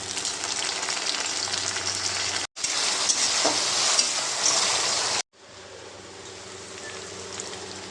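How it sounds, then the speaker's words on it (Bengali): Ginger garlic paste hits frying onions in a pan for chicken curry: a loud, dense, steady sizzle with stirring, broken by two brief cuts, the last stretch somewhat quieter. "পেঁয়াজ ফ্রাই হয়ে গেছে, আদা রসুনের পেস্টটা দিয়ে দেবো।"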